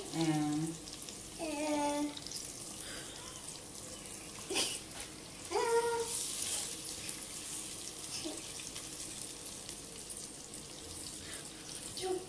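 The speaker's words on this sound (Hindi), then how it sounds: "इसको थोड़ा सा भूने, और भून के थोड़ी देर के लिए ढक दें" Marinated quail (batair) fry in a pan with a continuous wet sizzle and crackle, while a voice talks intermittently over it and a few clanks ring out.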